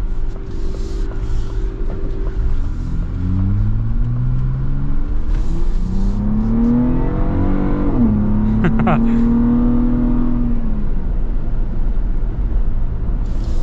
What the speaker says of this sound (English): So aggressive with the gear shifts in Baja mode.